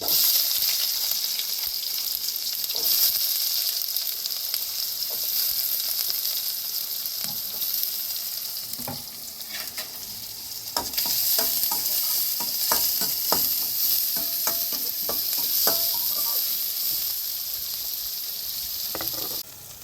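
Onion and fennel seeds fry in hot oil for chicken fry, a steady loud sizzle running throughout, with brief clinks and stirring scrapes near the middle and no talking.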